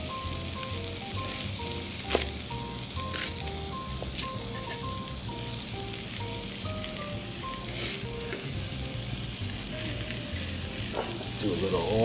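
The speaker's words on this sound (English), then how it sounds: "I'm not looking for a full saute on these mushrooms. I just kind of want to get them warmed." Mushrooms warming gently in a pan give a steady, moderate sizzle and frying crackle from start to finish, with a few sharp clicks and a light clatter near the end, and no voices.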